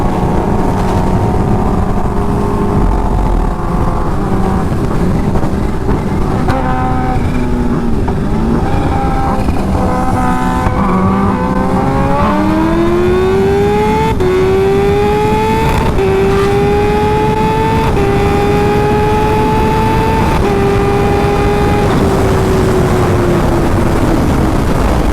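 Kawasaki Ninja H2 motorcycles race neck and neck, engines roaring loud and close, with rising pitch sweeps as riders accelerate through the gears over a steady high-revving drone.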